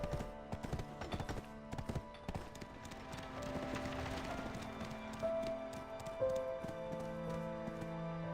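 Horse hooves clip-clop in a rapid, even rhythm on a path in the Black Desert game, fairly quiet and close, with a faint tonal chime partway through.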